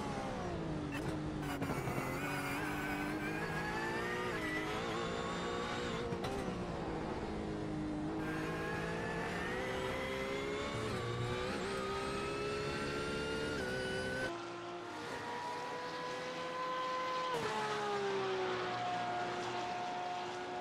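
Race car engines at Sebring in the iRacing sim drone and whine continuously, their pitch rising and falling through gear changes and corners, with a brief dip before the roar returns, and no voices.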